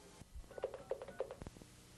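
A touch-tone telephone keypad sounds a quick run of faint dialing tones, several short beeps in an uneven rhythm with small clicks between.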